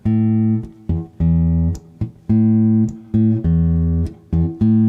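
Guitar picking a bossa-style bass line that imitates an upright bass, with repeated short low plucked notes under chord stabs in a syncopated rhythm, close and clear with no talking.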